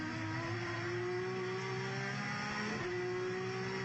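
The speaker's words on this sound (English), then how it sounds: "Ipudor in the Nissan on the left side now. He's followed through by Will Hoy in his Toyota." Touring race cars, a Nissan and a Toyota, roar around a short circuit, their engines droning loudly and continuously with a rising and falling pitch as they lap close together.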